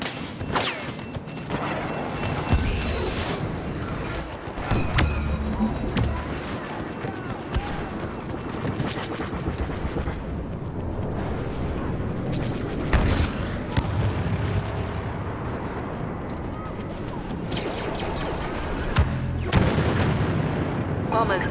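Bombers make an attack run in Star Wars Battlefront's Walker Assault, dropping a dense rumbling barrage of explosions and booms amid constant blaster fire and battle chaos, loud and continuous throughout.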